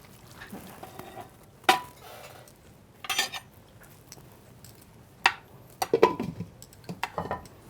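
Dishes and cutlery clink while a cooked egg and eggplant dish is served, with several sharp, separate knocks and scrapes spread irregularly over a quiet room background.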